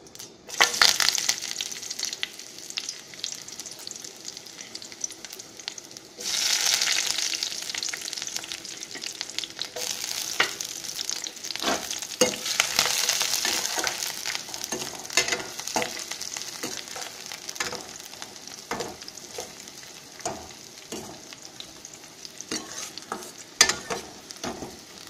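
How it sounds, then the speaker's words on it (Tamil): Mustard seeds and chopped onion frying in oil for a potato kulambu: a steady close sizzle full of sharp popping crackles and occasional stirring scrapes, rising in a loud burst partway through, with no talking. "கடுகு சேர்த்துட்டு கடுகு பொரிஞ்சதும் அது கூட நம்ம வெட்டி வச்சுருக்கிற வெங்காயத்தை"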